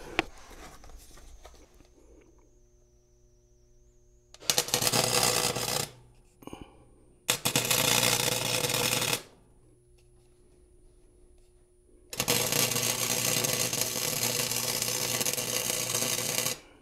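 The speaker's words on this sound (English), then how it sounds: "I've got my little crappy welder here set as low as it will go, and I'm just gonna tack the center here." A small, cheap welder set to its lowest setting tacks a custom battery hold-down for a DR650 motorcycle, three loud crackling bursts of a few seconds each separated by quiet pauses.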